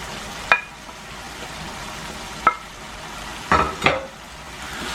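Okra hits hot oil with chicken in a pan and is stirred, giving a steady sizzle underneath, with several sharp spatula scrapes and clinks against the pan standing out, close and fairly loud, with no talk.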